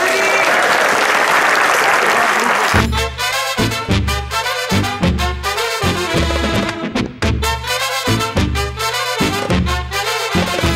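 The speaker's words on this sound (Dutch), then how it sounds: "Want vooral de organisatie die verdient een applaus." A theatre audience in Brummen applauds the organisers with a burst of dense clapping that lasts a few seconds, then loud rhythmic music starts and carries on to the end.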